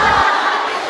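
A large crowd roars and cheers at an SMTOWN K-pop concert in Tokyo, a dense, loud wall of voices that holds steady through the moment, with a brief low thump at the very start.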